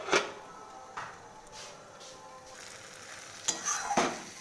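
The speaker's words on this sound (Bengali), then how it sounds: "প্রায় কষানো হয়ে যাচ্ছে, মানে তেলটা ছেড়ে দিচ্ছে, আর সামান্য একটু কষবো।" Vegetables for a paneer dish fry in oil in a pan while being stirred, a soft steady sizzle broken by a few sharp scrapes and clinks of the spoon against the pan, close and quiet.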